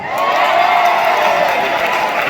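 An audience bursts into loud cheering and applause, a dense wash of whoops, shouts and clapping that stays full and close for the whole moment.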